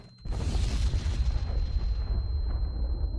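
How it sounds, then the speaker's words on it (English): A nuclear explosion in a Minecraft mod erupts after a brief moment of quiet, then a deep roaring rumble rolls on and slowly thins out. "did I mention that explosion will literally instantly kill you?"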